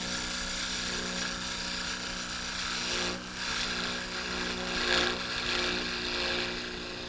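A wood spindle being rough-cut on a lathe, a steady, fairly faint grinding and rasping hum that continues throughout with slight swells, no voices.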